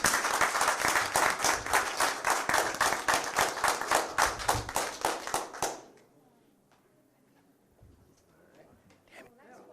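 An audience claps loudly and steadily at a candidates debate in North Mason, a dense patter of many hands that stops abruptly midway, after which the room falls quiet with faint rustling.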